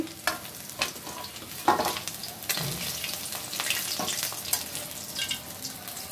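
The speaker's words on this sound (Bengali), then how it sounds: "মাছটা ভাজা হয়ে গেছে" Fish frying in a pan, with crackling sizzle and intermittent stirring or scraping clatter throughout, moderately quiet and close.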